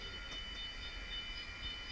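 A model railroad train rolls steadily over a track crossover, giving a soft, continuous rumble of small wheels on the rails with no talking.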